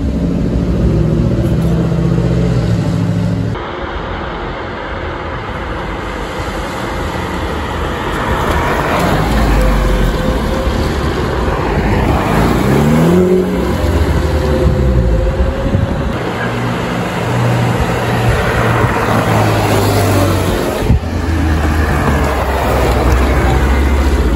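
Loud, continuous roar of sports car engines passing and revving on the Le Mans circuit, with changing pitch sweeps and a constant background rush.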